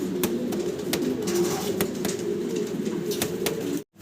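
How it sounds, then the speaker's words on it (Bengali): A pair of yellow magpie pouter pigeons coo in low repeated bursts, close by, with a few soft clicks and a brief sudden drop to silence near the end. "ইয়েলো কালারের ভিতরে আমরা একজোড়া ম্যাকপাই পটার কবুতর দেখাচ্ছি"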